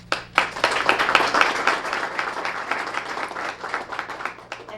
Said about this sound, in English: So I want to give them all a great round of applause.